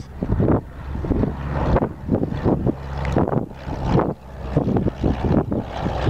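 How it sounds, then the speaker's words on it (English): Strong gusts of wind buffet the microphone at an airport, a loud, continuous low roar swelling and dipping in repeated surges with no other sounds standing out. "It's really windy today."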